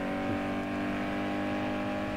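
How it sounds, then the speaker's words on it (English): A car engine in the racing video game Need for Speed Underground 2 gives off a steady, quiet buzzing drone, faint and unbroken, with no voices over it. "I can hear the slight buzzing of your engine."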